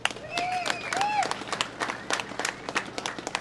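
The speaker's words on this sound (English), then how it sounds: "let's give the mayors a big round of applause" A crowd gathered for a bridge bicycle ride claps for the mayors, with scattered sharp claps and rising whistles ringing out at moderate distance.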